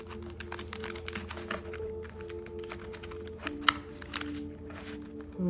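Tarot cards being shuffled, a quick run of crisp flicks and riffling snaps in irregular bursts, close and fairly quiet over a soft background hum.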